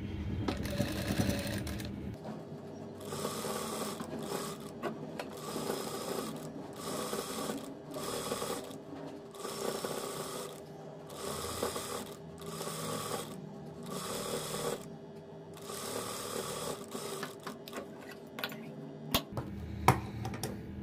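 A sewing machine topstitches lace along the edge of a salwar in repeated short bursts of rapid stitching, separated by brief pauses, at moderate loudness and close by.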